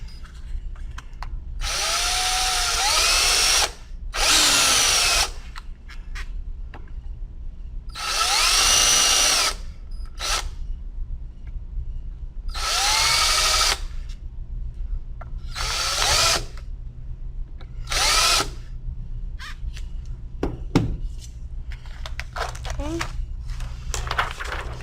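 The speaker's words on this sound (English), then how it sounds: "you're going to drill into these 4 holes" A power drill boring holes into a 3D printed plastic face shield, several loud whining bursts of a few seconds each separated by pauses, close up.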